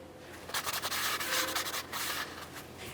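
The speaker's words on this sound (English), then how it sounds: "Clean the mating surface on the back side of your drum." A rag or pad rubs and scrubs the mating surface on the back of a rear brake drum from a 1994-1997 Honda Accord, a burst of close, rasping strokes in quick succession, alone without talk.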